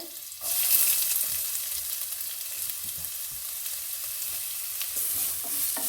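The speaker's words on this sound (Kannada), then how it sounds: "ಹಾಗೆ ಈಗ ಆನಿಯನನ್ನು ಹಾಕ್ತೇನೆ" Sliced onion drops into a hot pan with garlic and ginger, setting off a sudden bright sizzle that continues as a steady crackling hiss, with a few soft stirring scrapes and a second surge near the end.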